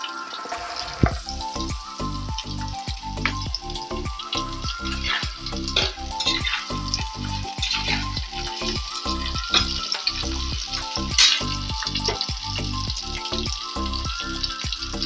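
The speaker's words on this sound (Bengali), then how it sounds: "আলুগুলোর মধ্যে আমি পটলটা দিয়ে দিচ্ছি, কারণ পটলটা ভাজতে একটু সময় লাগবে" Potatoes and pointed gourd fry in hot oil in a pan, giving a loud, steady sizzle broken by frequent clattering stirs and scrapes of a utensil throughout.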